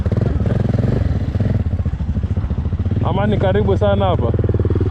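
A Yamaha XT660R motorcycle engine runs with a steady low throb, sounding close and loud beneath someone speaking throughout.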